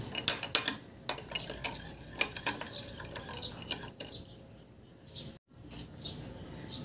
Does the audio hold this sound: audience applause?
no